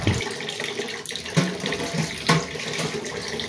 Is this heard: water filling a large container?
yes